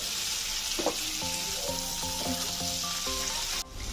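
Potatoes and okra sautéing in a pan for a vegetarian curry produce a steady, even sizzle, with a faint melody playing over it before the sound cuts off abruptly near the end.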